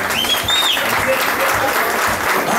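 A crowd claps steadily at the awards ceremony of an amateur mountain bike race, with dense applause filling the whole moment and a faint whistle rising briefly above it.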